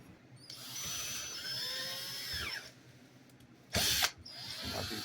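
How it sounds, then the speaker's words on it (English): A power drill whines steadily with a high grinding pitch, enlarging a hole in a 1979 Fiat, pausing briefly before a short louder burst of drilling near the end. "what we need to do is probably just drill it out a little, make it a little bigger"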